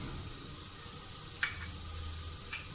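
Minced meat frying in a pan with turmeric and red chilli, a steady faint sizzle throughout, broken by two brief soft clinks of a utensil.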